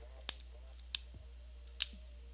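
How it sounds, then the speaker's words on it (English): A pin is clicked three times, each a sharp, crisp snap spaced irregularly against a low steady hum, close to the microphone. "Clicking this pin."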